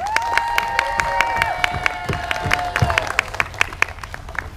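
An audience applauds the jousters at a staged medieval ducal court, steady clapping with sharp individual claps and some cheering, fairly close and loud for several seconds.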